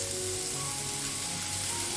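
Seekh kebab sticks fry in oil on a tawa with an even, unbroken hiss and sizzle at moderate volume.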